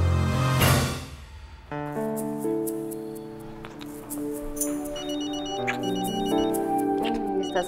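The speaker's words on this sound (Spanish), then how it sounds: "está sonando su celular." A mobile phone rings with a melodic electronic ringtone of sustained, repeating tones that plays on for several seconds after a brief noisy burst at the start.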